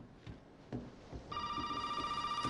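Telephone ringing in Resident Evil 7, a steady electronic bell tone starting partway through and continuing to the end, fairly close, alone apart from faint footsteps and movement before it.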